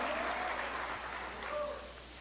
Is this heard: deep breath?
no